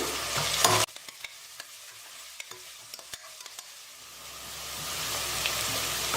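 Onions and curry leaves frying in a pan for vegetable kurma, a soft sizzle that starts loud, then drops to a quieter crackle with occasional stir clicks and swells again toward the end.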